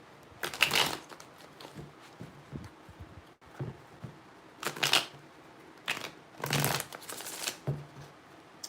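Tarot cards being shuffled close up in several quick riffling bursts, separated by soft handling noises and short quiet gaps.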